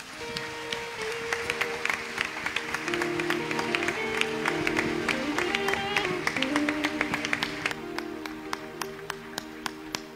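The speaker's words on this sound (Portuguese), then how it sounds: "Aplauda ao Senhor Jesus" A Brazilian church congregation claps for Jesus at a 30th anniversary service, a continuous rhythmic patter of many hands over sustained keyboard or organ chords, lasting throughout at a fairly loud level.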